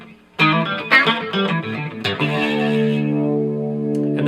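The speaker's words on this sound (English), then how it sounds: "Anchor your palm against the side of the guitar and just rip into it as fast as you can." Electric guitar through effects with some distortion and chorus plays fast two-note slid chords, played hard and quick, with sharp repeated attacks then a long ringing sustained chord; loud and close, no voice.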